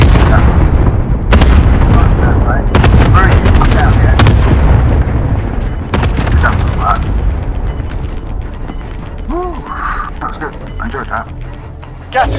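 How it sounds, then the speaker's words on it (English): A cluster strike in Call of Duty: Modern Warfare pounds the area with a rapid series of loud booming explosions and gunfire for several seconds, then fades into rumble, with voices talking throughout. "Call for fire on this target! This is loaded 2-0, good copy. Cluster strike away."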